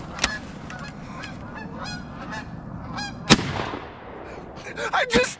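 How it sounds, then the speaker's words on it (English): A flock of geese flies overhead during a fall hunting trip in Michigan, honking repeatedly in scattered calls, with a sharp gunshot-like crack midway and louder honks close by near the end. "There's geese coming over."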